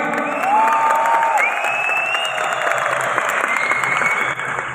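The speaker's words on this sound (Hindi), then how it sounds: "लाहौर वालों 10/10 तालियां चाहिए भाई।" A live audience at the Daraz Summit 2023 event in Lahore applauds loudly and steadily, thick clapping filling the whole stretch with scattered whistles and cheers rising above it.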